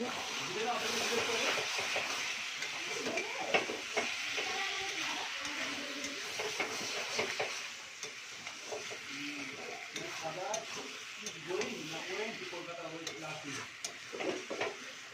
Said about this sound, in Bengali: দেখতেই পাচ্ছ আমার কষানো হয়ে গেছে, ধরে যাচ্ছে